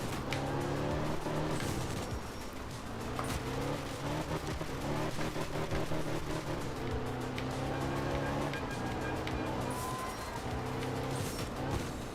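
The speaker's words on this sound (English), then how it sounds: "the car sounds are just a quote-unquote idea of what they are" Engine drone from rally cars in art of rally, a stylized top-down racing game, holding a steady revving hum throughout with shifting pitch over a continuous bed of dreamy background music.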